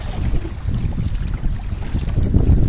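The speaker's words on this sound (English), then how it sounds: "I've got the wind at my back as well, pushing me along" Steady wind roars and buffets a microphone on a kayak out at sea, a broad continuous rush with gentle swells in level and no voices.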